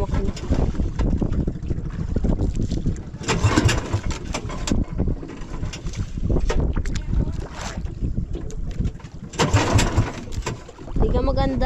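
Small motorized fishing boat at sea with its engine sputtering and chugging unevenly under steady wind noise, while people talk nearby.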